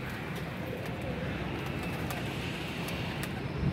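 A female pigeon coos softly at the loft, low and partly buried under a steady wash of outdoor background noise for a few seconds.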